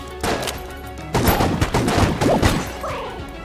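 Rapid bursts of gunfire from shooting a fish in the video game Enter the Gungeon, loud dense volleys of shots starting after a brief pause and continuing in clusters, ending with a short rising tone.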